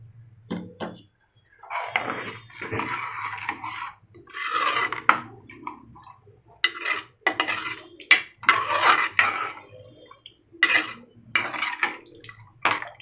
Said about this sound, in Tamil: ஜார்லேயே ஒரு 2 டம்ளர் தண்ணி ஊற்றி அதையும் அலசி எடுத்துக்கிட்டுருங்க.